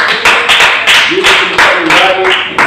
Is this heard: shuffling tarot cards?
no